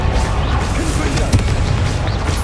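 A Confringo blasting spell cast in Hogwarts Legacy: a dense, continuous rumble of magical blasts and crackling impacts with one sharper crash partway through, loud and close amid chaotic combat noise.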